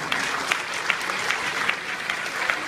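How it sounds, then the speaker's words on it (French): Audience applause at a film premiere for Disney's Planes, a steady, dense wash of many hands clapping with occasional sharper claps, continuous throughout. "je voudrais que vous l'applaudissiez très fort"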